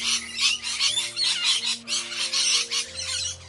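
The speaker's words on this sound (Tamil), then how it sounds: "இது ஒரு கிளியினுடைய சத்தம்." A parrot gives a rapid series of harsh, raspy squawking calls, close and fairly loud, over a soft steady background tone.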